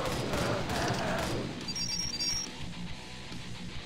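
Rapid machine gun fire in the video game Arcade Paradise, a dense loud burst of shots that fades into a quieter echoing tail with faint high electronic tones.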